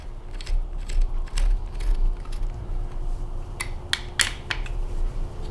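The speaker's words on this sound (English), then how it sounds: "we're going to fully tighten both of the bolts on the top" A wrench snugs the top stem bolts on a Prevelo Bravo Two kids' bike, giving faint, quiet clicks and small metallic ticks over a low background hum, with no talking.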